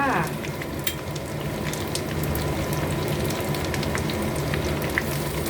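Chinese cooking wine is poured onto chicken wings frying in a pan, setting off a loud, continuous sizzle with crackling pops that holds steady throughout.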